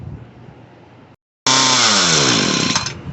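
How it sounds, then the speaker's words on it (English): A Ryobi RY28120 string trimmer's small two-stroke engine, just fuel-line and carburetor repaired, is heard up close: a low idle, a brief cutout, then a loud, high buzzing rev that sweeps in pitch and holds steady. "Now idle's a little low, so we're going to turn the idle"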